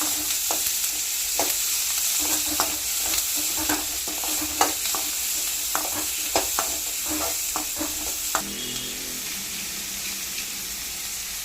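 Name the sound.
onion, garlic, tomato, curry leaves sautéing in sesame oil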